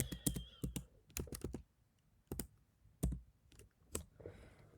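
Python code is typed on a computer keyboard in short bursts of crisp, close key clicks separated by quiet pauses, with no talking.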